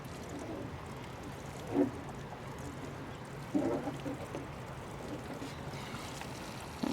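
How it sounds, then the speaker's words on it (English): Water sprays steadily onto soil over newly planted fall garden vegetable seeds, a continuous soft hiss from close by with a few louder splashes and no talk. "All right, just quickly water this in."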